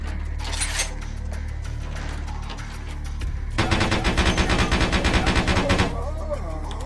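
Rapid gunfire from a gun battle in Vampire: The Masquerade – Bloodlines, a fast burst of loud automatic shots lasting a couple of seconds after quieter game ambience, with a voice talking at moments.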